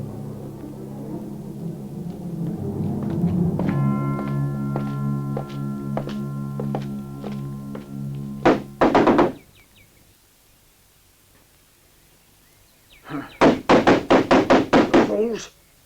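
A door is broken down with heavy blows: two bursts of rapid, loud thudding strikes separated by a silent gap, following a stretch of sustained tones and voices.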